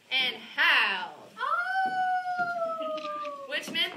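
A voice imitates a coyote howl, a long rising-then-falling sustained tone lasting about two seconds, framed by brief vocal sounds before and after, close and fairly loud.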